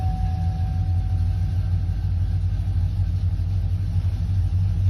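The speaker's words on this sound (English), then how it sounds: "turn the key on, then start your vehicle" A 2007–2014 GM truck's engine runs at a steady idle, a constant low rumble close by with a faint high whine, unchanging throughout.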